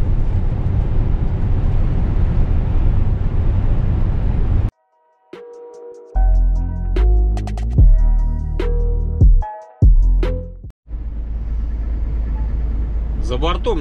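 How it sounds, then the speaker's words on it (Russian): Strong winter wind roars against a truck parked at a lorry stop, a loud, steady rushing that fills the start and end, broken midway by a stretch of talking and cab noises. "Ветер вон какой."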